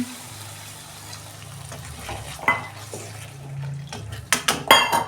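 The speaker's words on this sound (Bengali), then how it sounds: "আমি জল দিচ্ছি" Water added to curry masala frying in oil in a pan, a steady sizzle with stirring and clinks of a utensil against the pan, growing louder and sharper toward the end.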